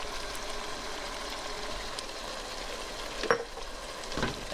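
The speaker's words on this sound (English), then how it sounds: "we're going to allow the meat to cook in the sauce for about 10 minutes" Meat simmering in jarred tomato sauce in a pan for homemade beefaroni, a steady close sizzle and bubble with a couple of brief utensil clinks toward the end.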